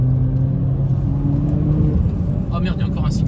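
Peugeot 208 GTI accelerating to overtake on a country road, a loud close engine drone with rising tones from inside the car, while someone talks over it near the end.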